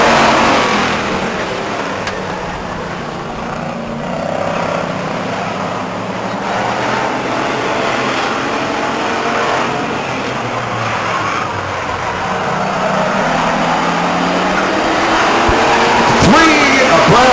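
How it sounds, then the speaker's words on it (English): Pure stock race cars roar around the Stockton 99 Speedway oval under green-flag racing, a loud continuous engine drone with passing swells, mixed with crowd and track ambience. "Second row, green flag racing."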